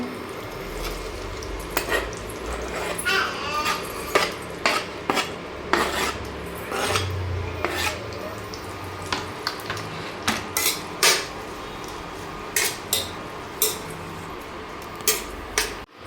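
A bay leaf and finely chopped onion frying in a pan for paneer bhurji, with a low sizzle beneath frequent sharp spoon scrapes and clinks against the metal, close and without voices.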